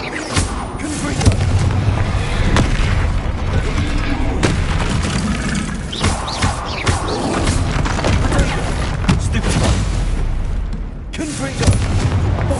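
Confringo fire spell explosions in the Hogwarts Legacy video game on PS5, repeated booms and crashes in dense combat audio, with a voice shouting spell names throughout.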